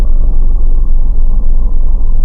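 A car creeping slowly along in an indie video game, a heavy continuous low rumble that stays loud and even throughout, with no speech.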